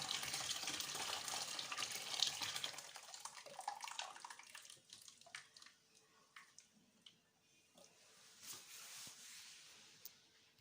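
Heated water poured into a container for making yogurt, a loud rushing pour for a few seconds that thins into trickles, drips and faint handling sounds.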